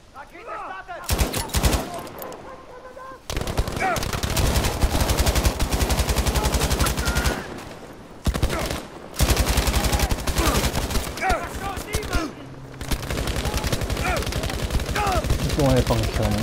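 Battlefield V gunfire rattles in long, dense automatic bursts with short pauses between them, loud and close, alongside occasional in-game noises and a player's voice.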